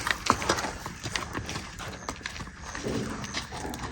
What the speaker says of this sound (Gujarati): ઘોડી જો આપણી નીકળી બહાર